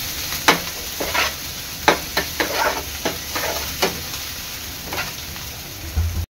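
Crushed ginger and garlic frying in a pan for prawn chilli, a close steady sizzle punctuated by repeated scraping strokes of a spoon stirring roughly every half second, with no talk.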